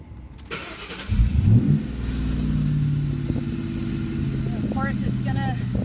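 A 2004 Mustang GT V8 cranks and fires up after a new IAC valve install, then settles into a loud, steady idle close by, with brief talking over the engine near the end.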